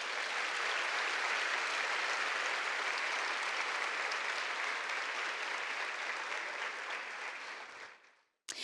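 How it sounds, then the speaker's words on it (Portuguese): A church conference audience claps for Jesus, sustained dense applause that holds steady for several seconds before fading out, fairly distant and without talk over it. "Dê um aplauso para Jesus."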